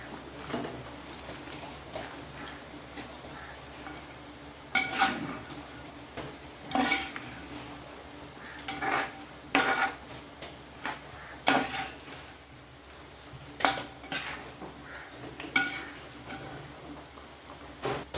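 A spoon stirs raw banana into beef curry in a pot, knocking against the metal in a series of moderately loud, spaced clanks over a quiet background.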